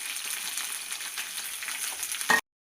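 Onions sizzle and fry with green chillies and garlic in a pan for a Bombay chutney, a steady close, bright crackling hiss that stops abruptly at the end with no talk.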